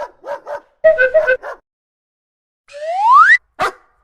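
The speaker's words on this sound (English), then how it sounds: "Corgi, Corgi. Dachshund, Dachshund," Dachshund barking and yipping up close with no other sound: a string of short sharp yips and barks, a drawn-out rising whine, then one final bark.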